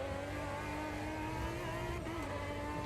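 An LMP1 prototype race car engine in the Automobilista 2 sim racing game at Sebring holds a steady, high droning whine, with a brief pitch wobble, heard faintly and evenly throughout.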